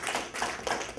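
Audience applause at a town council meeting in a hall, a brief burst of many hands clapping at moderate loudness, fairly close.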